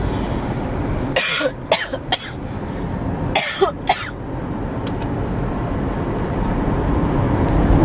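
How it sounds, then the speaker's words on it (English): Several sharp coughs and throat-clearing bursts come in two clusters from someone beside a moving car on a country road, over steady engine and road rumble. "any moment I'm going to cough, so excuse me."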